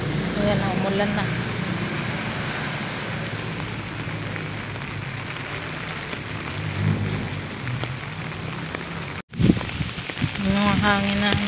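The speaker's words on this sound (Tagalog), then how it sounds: "Malakas na yung ulan." Heavy rain pours steadily on a surface outside a home in the afternoon as wind picks up, a dense continuous hiss with occasional talk underneath and a brief gap near the end.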